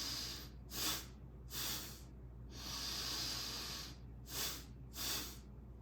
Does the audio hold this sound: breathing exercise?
yes